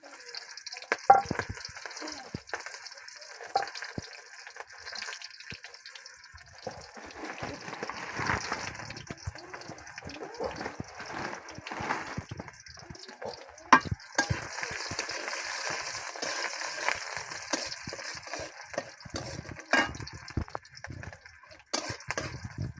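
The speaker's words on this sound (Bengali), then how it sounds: "এখন আমার পেঁয়াজটা ভাজা হয়ে গেছে" Onions fry quietly in a pan for a fish curry, a soft intermittent sizzle mixed with scraping, stirring and the odd clatter of a utensil.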